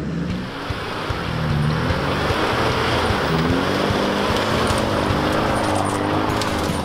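A Nissan GQ Patrol 4WD in mint condition crawls along a high country off-road track, its steady engine drone under constant wind and rumble, loud and close throughout without a break.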